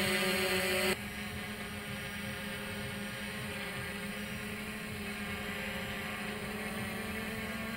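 A FIMI X8 SE quadcopter drone hovers and flies outdoors, giving a steady, loud motor and propeller drone with a constant pitched whine that runs unbroken throughout, with no talking.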